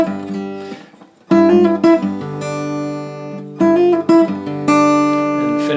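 Acoustic guitar playing a passage, with bright picked notes and a flowing arpeggiated run, moving through several phrases with short gaps and ringing sustained notes, played close and clear with no talking.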